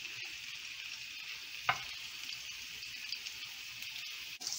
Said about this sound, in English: we just saute these scallions a little bit